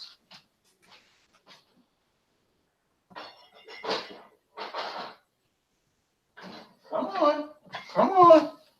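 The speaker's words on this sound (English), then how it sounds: "If you don't mind seeing these puppies crawling all over me." Puppies whimper and yip in short, high bursts, close by, crawling over a person, with panting and some soft vocal noises between quiet gaps.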